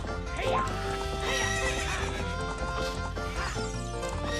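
A video game horse in Zelda: Ocarina of Time neighs loudly and gallops, its whinnies layered over quick hoofbeats against a dense, continuous backdrop of game music.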